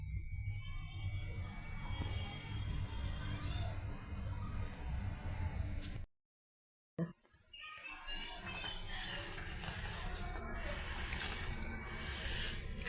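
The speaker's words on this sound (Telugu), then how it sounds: "వాటర్ మరుగుతుందండి" Water coming to a boil in a pot for semiya payasam gives a steady bubbling hiss that runs throughout, broken by a brief silent gap midway.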